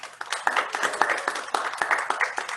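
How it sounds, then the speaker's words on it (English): An audience at a writing workshop gives a short burst of hand clapping, fairly soft with individual claps distinct in an uneven rhythm. "let's go ahead and just give a hand clap to Kristey and to Megan"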